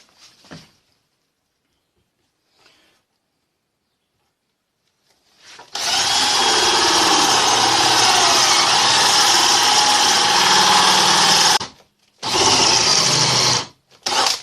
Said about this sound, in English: drill a hole nice and straight into the end of both pieces of wood